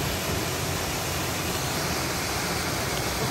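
Burua Waterfall at Tasik Kenyir, heard from a sandbank beside it, pours out a continuous, even rushing roar of falling water with no breaks.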